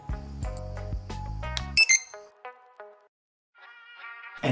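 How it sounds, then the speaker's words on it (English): An ESP32-based DIY slot car speed controller with an OLED display sounds a sequence of clear electronic buzzer tones, a busy run of beeps followed by a few shorter spaced tones, a pause, then a brief burst, close and alone. "The OLED display should turn on and the buzzer should beep."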